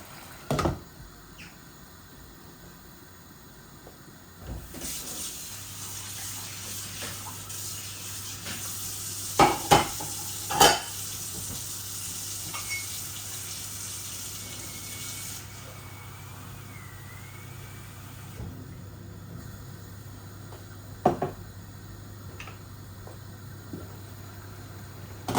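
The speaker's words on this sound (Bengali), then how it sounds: "পাবদা মাছ বেশি লাড়তে হয় না, এই যে আমি একবার খালি লাড়ছি।" Pabda fish curry with potato and tomato is stirred in a pan, giving a steady frying sizzle with occasional sharp clinks of a utensil against the metal.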